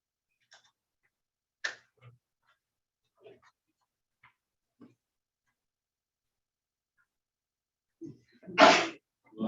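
One loud sneeze bursts out near the end in a quiet meeting room, after scattered faint clicks and small noises.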